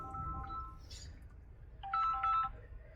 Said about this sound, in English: And now my phone's ringing.